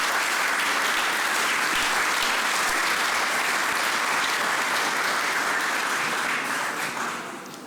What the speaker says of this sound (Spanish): Eso, un aplauso.